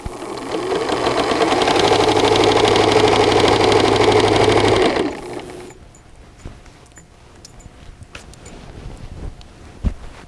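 A sewing machine stitches fabric in a loud, steady mechanical run for about five seconds, then stops, leaving quiet handling noises and a few soft knocks.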